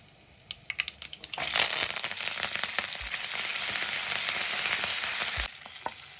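Drumstick leaves tossed into hot oil in a pan with cumin, green chilli and curry leaves for a moong and chana dal; a loud, steady sizzle bursts up and crackles continuously for several seconds, then cuts off abruptly.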